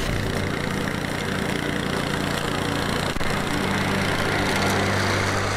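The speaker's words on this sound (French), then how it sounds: "C'est vraiment une tondeuse débroussailleuse, elle porte bien son nom" A Honda UM 535 brush mower engine runs steadily and fairly loud nearby, holding a constant droning rumble with a brief dip midway and no talk.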